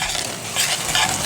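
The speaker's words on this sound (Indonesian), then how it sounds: "Ini ada pala, kayu manis. Ini akan kita ikut goreng." Nutmeg and cinnamon frying in a pan for curry, a steady bright sizzle with scraping stirring, close and continuous with no talk.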